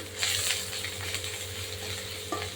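Lote fish masala with salt and turmeric frying and being stirred in a pan, a close, steady sizzle with scraping spatula strokes and a short metallic clink near the end.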